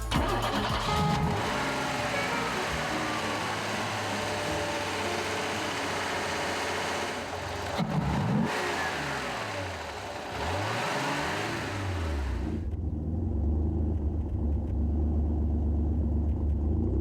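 A 1951 Opel Kapitän with a 180 hp engine and automatic gearbox runs steadily nearby, its smooth mid-pitched hum and rumble continuous throughout with a brief shift in tone partway, no voices over it.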